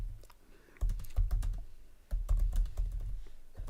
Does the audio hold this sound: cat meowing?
no